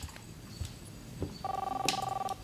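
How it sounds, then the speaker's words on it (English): A telephone rings in the Life Is Strange video game, a steady pulsing electronic ring tone that starts partway through over a faint low background hum. "No, I'm answering that phone."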